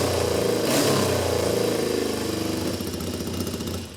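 A vintage motorcycle engine fires up and settles into a steady, loud close idle, its rough mid-range rumble pulsing evenly without letup inside a motorcycle museum.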